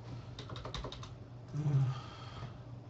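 Typing on a computer keyboard, a short run of quick light keystrokes followed by a softer click or two, faint against a low background hum.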